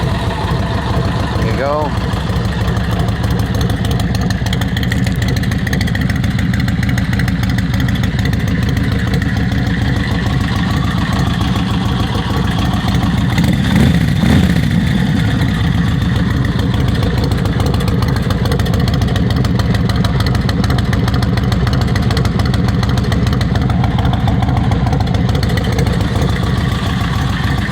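A 2004 Yamaha Road Star 1700 with a carbureted 1,700cc engine and bobber exhaust idles steadily and close for a long stretch, a low, loping rumble heard under occasional brief speech.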